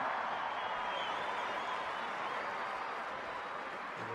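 A rugby stadium crowd applauds in a Portugal versus Japan match, a broad, even wash of distant clapping and cheering that holds steady throughout.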